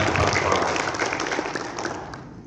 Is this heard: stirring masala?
no